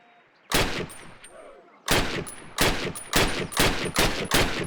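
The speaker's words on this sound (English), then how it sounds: "Approach the fence and fire 6 rounds at your target." Rifle shots fired at a target on a Call of Duty training range, six loud sharp reports: one alone, then five in a fairly regular sequence.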